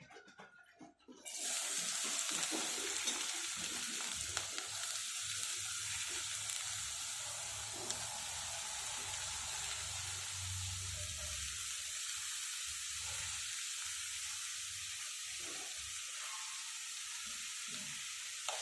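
Shredded cabbage fries in oil in a pan over a medium flame, giving a steady, even sizzle with faint scraping as it is stirred, heard close and continuous with no talking.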